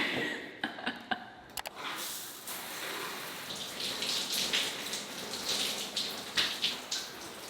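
Shower water running during a morning routine, starting with a few clunks and taps before a steady hiss of spray builds and continues with splashy fluctuations close by.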